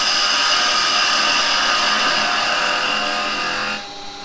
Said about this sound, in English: I want my parting tool because I'm going to come in here